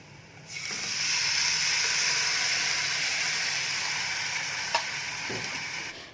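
Turmeric powder, salt and coriander powder fry in a pan for a curd curry, giving a steady, close, loud sizzle with light stirring scrapes for several seconds, no voices.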